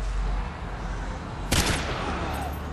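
A single loud gunshot cracks out midway in Call of Duty: Modern Warfare 2's favela combat, a sharp burst over a dense, rumbling battle ambience.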